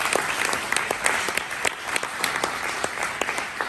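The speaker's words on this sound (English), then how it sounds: "Let's give a big welcome round of applause." An audience applauds at a refugee program presentation, a dense steady wash of clapping hands lasting several seconds with no talk over it.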